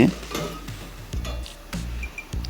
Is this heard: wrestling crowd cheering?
no